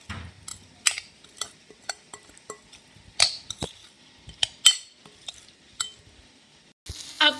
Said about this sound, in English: Now give your avocado a quick mix.